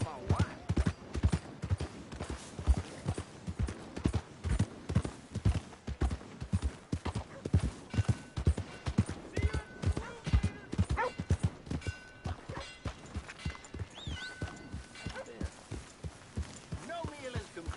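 Horse hooves clip-clop in Red Dead Redemption 2, a steady rhythmic run of close hoofbeats lasting throughout, with game voices and ambience faintly beneath.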